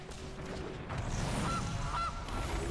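Goose honking in the MTG Arena card game during an Ikoria creature animation, several loud, close honks in a row with no talk over them.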